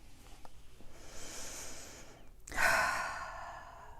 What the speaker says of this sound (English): taking in a deep breath